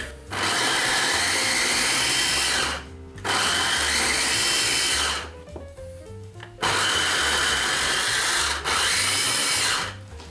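An electric food chopper grinding jalapeño peppers and garlic with olive oil into a paste, running in three loud whirring bursts separated by short pauses with brief clattering between them.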